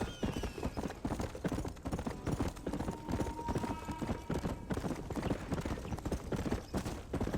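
Fast, steady clip-clopping of horse hooves in the PS4 video game Red Dead Redemption, loud and continuous, galloping on with no one speaking.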